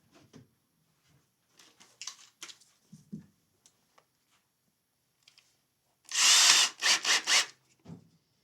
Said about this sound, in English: Let's grab the drill. We'll just drill those in there.